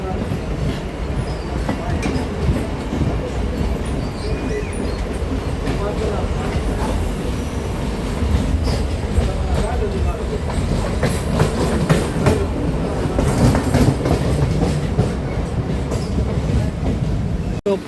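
An empty old ICF-coach express train rake rolls by on the rails nearby, with continuous rumbling and rhythmic clickety-clack of wheels that grows louder midway.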